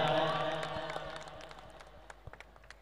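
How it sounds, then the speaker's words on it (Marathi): Applause from a crowd at a birthday celebration, a loud wash of clapping that thins out over a few seconds into scattered single claps. "एकदा जोरदार टाळ्या"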